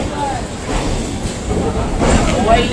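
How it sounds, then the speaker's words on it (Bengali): A local train pulling out of Sealdah station bound for Namkhana, a loud steady rumble of the moving train with people talking over it. "একদম রাইট টাইমে আমাদের ট্রেন শিয়ালদা স্টেশন থেকে ছেড়ে দিল নামখানার উদ্দেশ্যে।"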